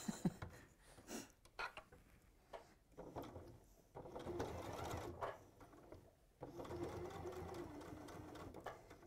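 Quiet indoor sewing machine stitching a bag lining, running in bursts of mechanical whirring with short pauses and clicks between runs, with no talking.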